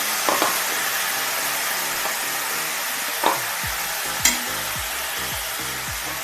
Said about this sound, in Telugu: ఉల్లిపాయలు ఇలా కొంచెం కలర్ మారిన తర్వాత మనం కడిగి పెట్టుకున్న మునగాకును వేసుకుందామండి